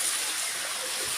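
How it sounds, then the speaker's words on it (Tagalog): A waterfall rushes as a steady, broad hiss of falling water, close and unbroken for a brief moment. "napakaganda po na falls na to"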